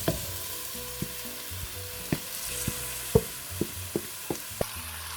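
Chicken frying in a pan with onions and garlic, a steady low sizzle with a series of sharp utensil clinks and stirring knocks, close and fairly quiet, no voices.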